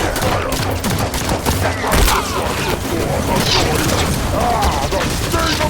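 Dense gunfire fills a Halo 5: Guardians battle with rapid overlapping shots, booms and impacts. The din is loud and continuous, with voices mixed in.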